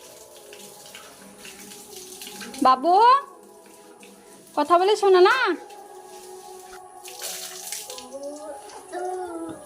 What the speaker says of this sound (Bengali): ও তো নিজে নিজেই গা ধুচ্ছে